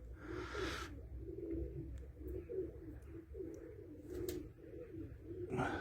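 Pigeons kept as game birds coo softly and repeatedly after feeding, in a low rhythmic murmur close by, with a few brief rustles.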